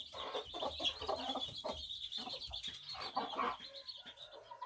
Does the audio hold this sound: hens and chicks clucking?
yes